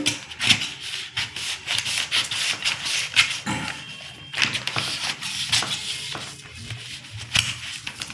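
Fabric being cut for the sleeve of a men's kurta (panjabi) at a tailoring table gives close, steady rasping and rubbing strokes that come in an uneven rhythm, with cloth shuffling between cuts.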